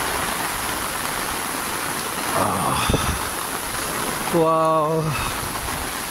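Steady rain falls on a habagat monsoon morning at Bulabog beach in Boracay, a constant even hiss throughout, with a brief exclamation from a voice and a short tonal hum near the end.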